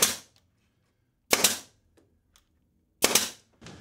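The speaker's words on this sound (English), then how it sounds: "I'm going to fire a couple of nails in here" A nail gun fires nails into a bathroom vanity cabinet, three sharp, loud pneumatic bangs spaced about a second and a half apart, close by with quiet gaps between.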